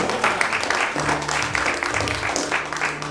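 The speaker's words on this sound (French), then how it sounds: "Vous pouvez l'applaudir s'il vous plaît." A group claps for Alexandre during an evening film event, with steady applause running throughout and some voices mixed in.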